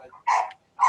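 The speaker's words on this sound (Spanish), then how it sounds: "El perro se enojó." An agitated dog barks sharply three times in quick succession, loud and close, with brief pauses between the angry outbursts.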